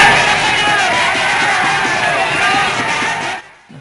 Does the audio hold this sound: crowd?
yes